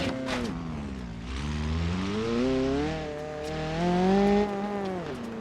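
Car with an enormous single rear wheel driving in BeamNG, a droning engine whose pitch rises and falls through shifts and revs, steady and close, no talking.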